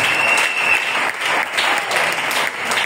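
A church congregation claps and cheers loudly during a Sunday worship service, with dense, steady applause filling the room throughout and brief swells of voices.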